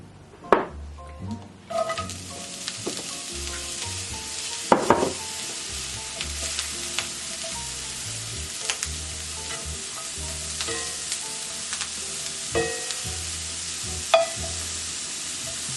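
Mushrooms sizzling in olive oil in a pan, a bright continuous sizzle broken by clattering stirs and sharp clinks near the start and midway, close and alone without talk.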